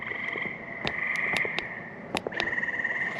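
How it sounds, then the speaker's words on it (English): Frogs croak at night near an old covered bridge: a loud, continuous high trill with sharp chirping calls layered on top, close and clear, with no talking. "you can hear frogs. A lot of frogs down there."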